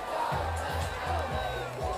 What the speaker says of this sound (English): The loud crowd is still ecstatic over there.